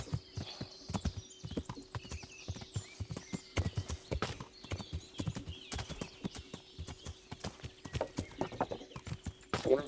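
Horse hooves clip-clop in a steady rhythmic trot in the video game Kingdom Come: Deliverance, fairly quiet, with faint background ambience and no talking.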